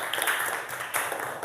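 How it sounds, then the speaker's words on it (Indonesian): Primary school classroom applause for a pupil, a short burst of children clapping together, fairly close and lively, with no voices over it. "Tepuk tangan buat Mbak Nada."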